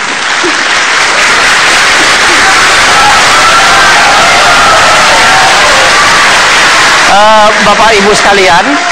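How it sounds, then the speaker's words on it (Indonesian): A crowd at an Indonesian presidential debate in 2014 applauds and cheers loudly, dense continuous clapping filling the hall until a voice starts speaking near the end. "Silakan berikan tepuk tangan"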